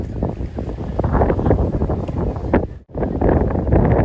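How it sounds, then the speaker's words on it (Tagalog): Strong wind buffets the microphone in loud, gusty rumbles, continuous and close, with one brief lull before roaring back. "sobrang hangin dito ngayon"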